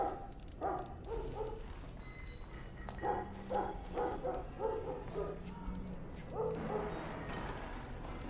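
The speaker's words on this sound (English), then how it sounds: "That hound should be in the kennels, not wandering the castle." A hound in a video game barks in scattered bursts with yips and whimpers among castle surroundings, moderately close and repeated over several seconds.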